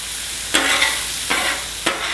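Peas frying in freshly added oil with shrimp fried rice in a hot pan, a loud close sizzle punctuated by three quick stirring scrapes, with no talking.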